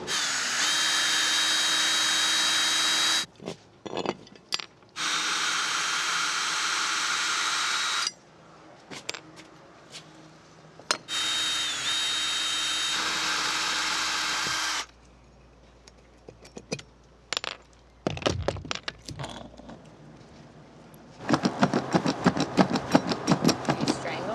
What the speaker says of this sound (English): I'm just going to use the drill to kind of get these screws out and pull them up